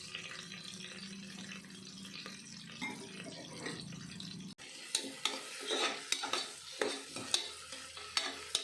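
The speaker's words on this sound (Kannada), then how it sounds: "ನಾವು ಕಟ್ ಮಾಡಿ ಇಟ್ಕೊಂಡಿರೋ ಈರುಳ್ಳಿ, ಹಸಿರುಮೆಣ್ಸಿನ್ಕಾಯಿ ಹಾಕಿ ಫ್ರೈ ಮಾಡ್ಕೊಬೇಕು" Chopped onions and green chillies frying in oil for a vegetable tomato biriyani. A steady sizzle runs through, with a louder burst of crackling partway in, and a spoon scrapes and stirs the pan in short strokes.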